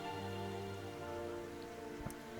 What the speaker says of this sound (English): we did get notice that Acid Rain had started again over here naturally